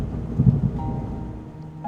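A cartoon-style thunderstorm effect: a low rolling thunder rumble with a patter of rain beneath it, moderately loud, fading into a softer steady wash over under two seconds.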